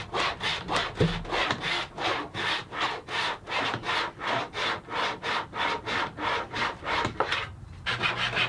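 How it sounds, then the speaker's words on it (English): A hand saw cuts a wooden guitar fretboard to length during a neck build, making steady, evenly spaced push-pull strokes, about sixteen in all, loud and close with no talking. "Now I can cut the fretboard to its final length."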